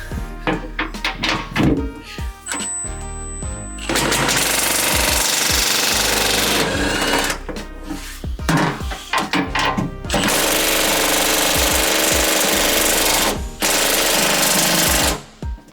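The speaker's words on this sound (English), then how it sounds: "I'm just using this right angled bit to get to the more awkward ones" A power drill fitted with a right-angled bit drives out screws while a campervan swivel seat is removed, with loud bursts of whirring broken by short pauses and clunks.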